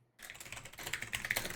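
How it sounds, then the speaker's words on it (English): Rapid typing on a computer keyboard, a quick irregular run of light clicking keystrokes starting after a short silence, close and fairly soft, with no one speaking. "I was typing something else."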